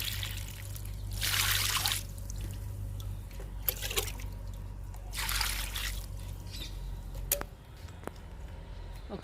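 Liquid fertilizer is poured onto a bottle gourd plant outdoors in a few quiet trickling, splashing bursts, with faint background hum between the pours.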